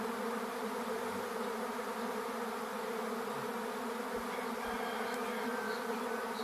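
A swarm of free-living honeybees that settled inside a wall buzzes in a dense, continuous hum, steady and fairly close, with no voices.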